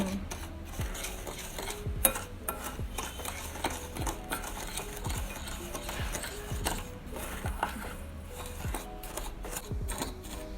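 Bath fizz ingredients being stirred by hand to a sand-like texture: a steady run of scraping, clinking and gritty rubbing that continues throughout at moderate volume.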